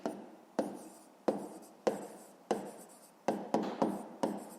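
Pen or pencil writing on paper for a maths exercise, a series of about ten short, scratchy strokes in an irregular rhythm, close and fairly quiet.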